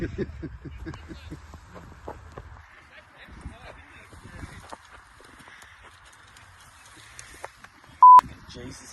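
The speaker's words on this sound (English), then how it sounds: "we have tried to beep it out as much as we could" A sharp, loud censor bleep tone cuts in near the end of a golf league broadcast, briefly masking a swear word amid outdoor talk and background chatter.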